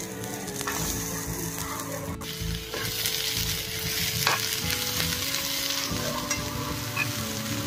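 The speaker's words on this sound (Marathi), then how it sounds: "त्याच पॅन मध्ये आता कांदा भाजून घ्यायचा आहे।" Onion frying in oil in a pan while cooking a Maharashtrian-style chicken gravy, with a steady close sizzle and occasional stirring scrapes running throughout, no voices.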